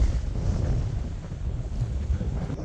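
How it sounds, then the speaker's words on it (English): Steady, heavy wind on a farm at sunset buffets the microphone with a low, blustery roar throughout, no voices. "I know it's windy"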